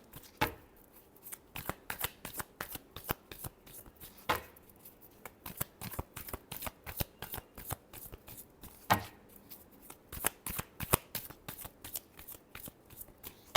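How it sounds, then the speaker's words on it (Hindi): A deck of tarot cards is shuffled over and over, giving a long series of sharp, close riffles and taps in an uneven but steady rhythm, alone without any talking. "Last shuffle."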